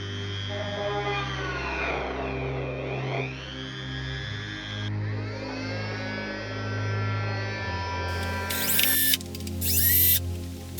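A Dremel rotary tool drilling pilot holes while building a lure dryer gives a steady high-pitched whine with harmonic tones, humming continuously, shifting pitch slightly as it bites into material, ending with a brief louder burst.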